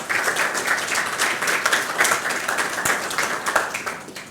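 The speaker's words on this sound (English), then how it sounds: "I really would love to have a round of applause for Jonathan" An audience gives a round of applause during a live-streamed event, dense clapping from many hands holding steady for several seconds before tapering slightly at the end.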